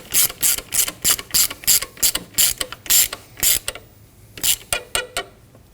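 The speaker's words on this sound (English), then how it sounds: "We're going to tighten down the slider bolt for the belt." A hand ratchet clicks in quick bursts of rapid pawl ticks, close and loud, while tightening the belt slider bolt on a 2003-2006 Subaru Baja 2.5L H4, pausing briefly between strokes.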